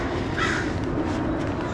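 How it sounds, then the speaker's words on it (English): Crows caw repeatedly outdoors during a fishing trip in the USA, their harsh calls ringing out over a steady background hiss with no talking. "Crows are out."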